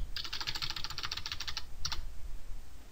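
Rapid, close keystrokes on a computer keyboard for about a second and a half, then a short second burst, with no talking over it.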